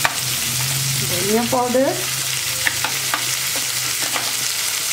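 Dry spices, including coriander powder, ginger-garlic paste, black pepper and cumin, fry in a pan for a cabbage, potato and pea sabzi. A continuous close sizzle runs under scraping stirs and a brief spoken phrase.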